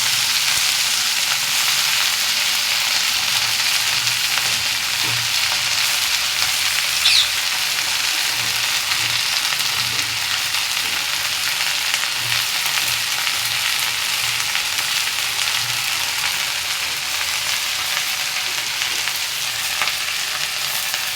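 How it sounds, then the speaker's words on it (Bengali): Greens tossed into a pan of fried onions sizzle steadily, a dense, even hiss holding close and loud for the whole stretch with faint scraping stirs underneath. "তো পেঁয়াজটা ভাজা ভাজা হয়ে গেছে। আমি এর মধ্যে শাকটা দিয়ে দেবো।"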